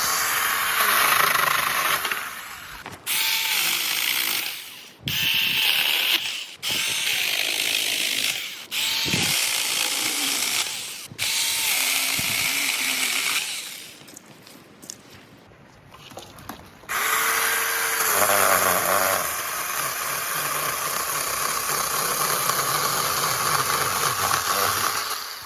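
SeeSii 6-inch battery mini chainsaw cutting fallen wood for firewood, a high buzzing motor whine revving in repeated bursts with brief pauses, then one long sustained cut, loud and close.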